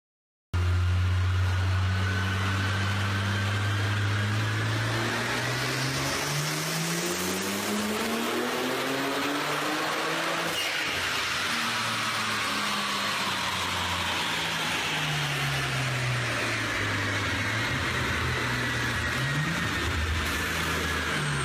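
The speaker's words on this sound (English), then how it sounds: "here is the dyno pull right here" A 2010 BMW 335i xDrive running E85 fuel, tuned to about 628 wheel horsepower, roars through a loud, sustained dyno pull. Engine pitch climbs steadily, drops sharply at a shift near the middle, then rises again to the end.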